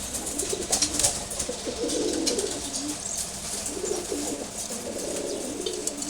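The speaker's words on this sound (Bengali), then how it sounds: "সুন্দর এক জোড়া খাকি কবুতর" A pair of khaki pigeons coo repeatedly nearby, soft rolling calls rising and falling over a faint background hiss.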